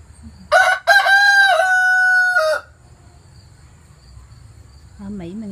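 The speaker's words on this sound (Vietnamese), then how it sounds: "Mấy con gà nó gáy." From a backyard flock of hens and two roosters, one rooster delivers a loud crow, a short stuttering start leading into a long held call, over a steady chirping of insects, followed by a brief lower cluck near the end.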